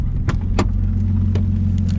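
A Nissan R32 Skyline idles on a late-night street, its steady low engine hum running continuously, with a few faint clicks and knocks over it.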